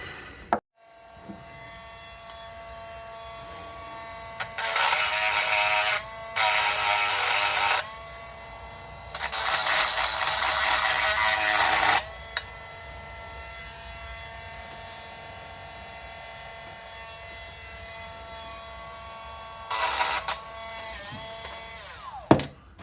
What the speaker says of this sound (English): I'm going to use the Dremel and get in there and in there, right in the corner here a little bit.